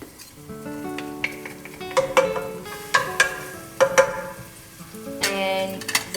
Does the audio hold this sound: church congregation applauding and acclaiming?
no